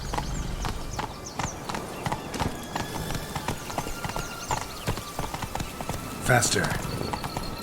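Horse galloping in The Witcher 3: Blood and Wine, a steady run of hoof clip-clops under a man's speech, with a brief louder burst near the end.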